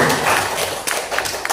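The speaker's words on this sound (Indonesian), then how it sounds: "kita kasih tepuk tangan untuk narasumber kita" Classroom applause for a guest speaker, loud close clapping from students with a few sharper individual claps and taps standing out near the end.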